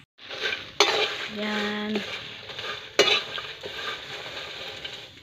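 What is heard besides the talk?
marang seeds cooking in a pan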